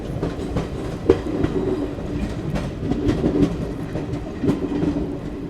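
Chennai–Delhi Garib Rath express running near Gwalior Junction, heard from inside with a steady rumble and repeated clickety-clack of wheels over rail joints, loud and close.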